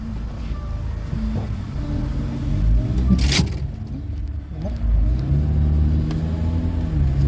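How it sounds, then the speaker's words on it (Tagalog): Heavy road traffic on the way to Port of Spain, with low engine rumble from a car idling and creeping forward, passing vehicles swelling and fading, and a brief sharp noise midway. "Grabe traffic sa papuntang Port of Spain."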